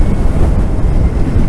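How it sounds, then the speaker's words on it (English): Steady, heavy wind buffeting the microphone, a dense low rumble that continues without pause. "we've got a windy day but a sunny day"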